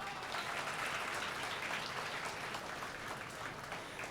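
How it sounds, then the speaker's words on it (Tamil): An audience claps steadily and densely at a college annual day celebration, a continuous wash of many hands at even loudness with no voices over it. "கைதட்டல் கொடு, வா"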